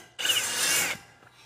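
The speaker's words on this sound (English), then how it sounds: "Put more torque on this. Put it to drill actually" A power drill drives a screw while a round marker light is mounted on a trailer, making one short, close whirring burst that stops abruptly.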